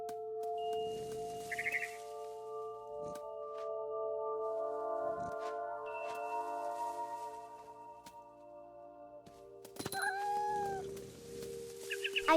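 In the video game What Remains of Edith Finch, a cat meows and yowls amid sustained tonal game music, with a louder burst of cries near the end.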